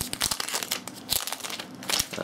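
Plastic protective film peeling off a new HP TouchPad tablet, a close, loud run of crinkling and crackling with quick tearing bursts, continuous for a couple of seconds with no voice.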